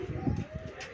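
A pigeon coos softly on a rooftop loft, a brief low throaty murmur, faint and close, with a hint of other noise.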